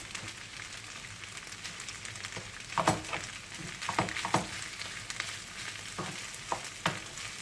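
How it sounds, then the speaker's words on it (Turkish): Potatoes are sautéed in a pan with a low, crackling sizzle. Stirring strokes scrape the pan at irregular intervals, and no one talks. "kavuracağım patatesimi tekrardan"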